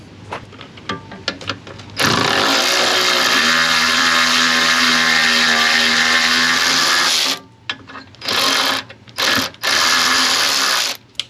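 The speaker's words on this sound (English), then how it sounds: "now we got to get the nuts off of here, here, here, and here" Power tool spinning off 10 mm nuts on a Jeep during a Hide-A-Step install, a loud steady whirring run of about five seconds followed by several shorter bursts.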